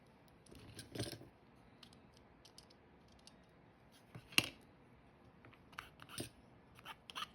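Scissors trim the battery tray of a Kyosho HOR RC car build, making a few sparse, close, quiet snips with soft handling noises between them.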